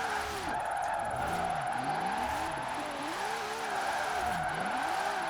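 Wide race tires spin and squeal on a Toyota fitted with a Nissan engine in Forza Horizon 4, a steady loud screech with wavering tire pitch over continuous engine drone.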